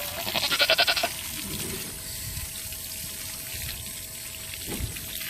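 A buck goat on a breeding farm lets out a wavering, pulsing bleat near the start. Running water trickles and pours steadily throughout, and a short thump comes near the end.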